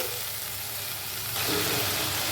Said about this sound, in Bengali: আদা রসুন আর টমেটো ভাজা ভাজা হচ্ছে